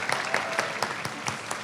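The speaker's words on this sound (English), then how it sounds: "A round of applause, everyone." Brief burst of audience applause following a pitch presentation at a city startup final, steady clapping from a moderately sized crowd at mid distance, with no speech over it.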